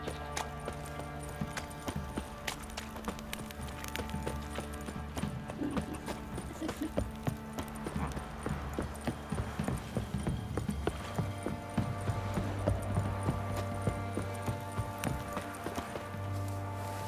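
Horses in The Witcher 3 clip-clop along at a walking pace, hooves tapping in a steady irregular patter with soft background ambience throughout.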